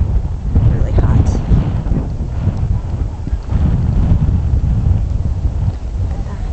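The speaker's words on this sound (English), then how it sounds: "It's windy." Strong wind blows across a mountain summit, buffeting the microphone with a continuous low roar and gusty rumble throughout.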